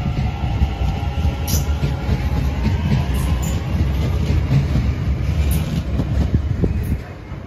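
An Irish Rail train rolls past a railroad crossing with an English-style switch box, a steady loud rumble of wheels and carriages filling the whole stretch before easing slightly at the end.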